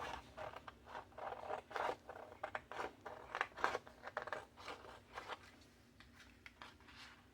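Repeated snipping of scissors through paper, close and crisp, in an irregular series of cuts with light rustling between them.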